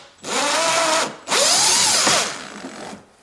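Power drill or driver unscrewing a 10mm bolt on the plastic front bumper of a Toyota Avensis, two loud whirring bursts with pitch rising and falling, close by with no talk.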